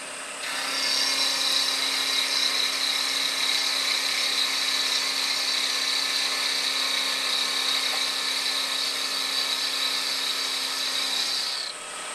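Milling machine cutting a metal block: a steady high whine with a constant tone that starts abruptly, holds evenly for about eleven seconds, then stops, fairly loud and without talk.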